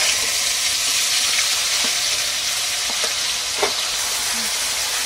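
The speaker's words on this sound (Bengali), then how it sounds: "পেঁয়াজের কাঁচা গন্ধটা চলে যাওয়া পর্যন্ত একটু ভাজতে হবে।" Onion paste sizzles and fries in a pan for an egg korma, a steady loud hiss with a few brief stirring knocks and pops, no talk over it.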